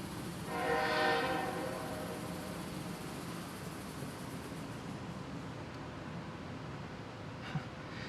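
A train passing outside, its horn sounding once in a short harmonic blast early on, followed by a steady low distant rail rumble that fades gradually, faint and muffled as if heard from indoors.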